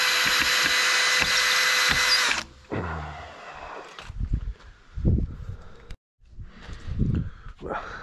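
A power drill drives worn screws into wood during an old house renovation, whirring loudly for about two seconds before stopping, followed by softer handling knocks, creaks and movement.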